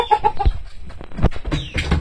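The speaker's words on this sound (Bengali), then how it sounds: "খাবার দিলাম মুরগিরে তো খাইতে থাকুক" Chickens cluck in a quick, close series of short calls while being fed, with scratchy pecking and shuffling noises between the calls.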